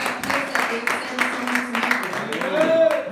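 A church congregation applauding during a sermon, a steady dense wash of clapping lasting a few seconds with a voice sounding over it.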